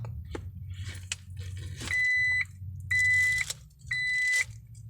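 Isuzu D-Max Hi-Lander 1.9 Ddi Cab-4 pickup shifted into reverse gives three evenly spaced electronic sensor beeps over a low diesel idle, each about half a second long.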